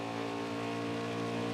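Race truck engine in the NASCAR Heat 5 game at Auto Club, a steady sustained drone with rich harmonics, held at constant pitch without clear revving, loud and close throughout.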